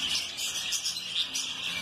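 Many parakeets chirp and tweet together in an aviary at an exotic bird breeding farm, a steady high-pitched chatter of overlapping calls close by and fairly faint, with no talking.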